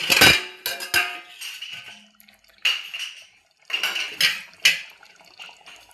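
A lid comes off a pot of simmering seela fish curry with metallic clanks and scrapes, followed by a few more intermittent clinks and soft bubbling, all close by without speech.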